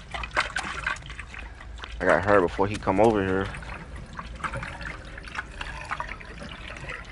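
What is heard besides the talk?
pouring gasoline in the video game The Outlast Trials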